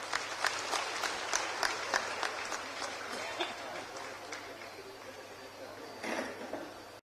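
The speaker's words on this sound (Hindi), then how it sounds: "तालियों के साथ स्वागत" An audience claps to welcome a state MLA at a chief minister's public event in a Jharkhand village, a dense, steady applause that swells again briefly near the end.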